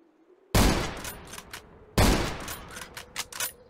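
Two loud bursts of rapid gunfire, fired at wild boars in the Zero Sievert video game, each crack trailing off with a ringing tail; the second burst is choppier.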